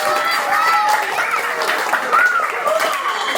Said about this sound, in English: Let's wake up Jose with a very big round of applause.